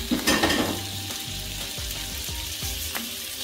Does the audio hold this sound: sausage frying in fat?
yes